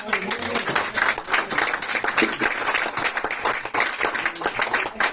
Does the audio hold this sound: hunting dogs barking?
no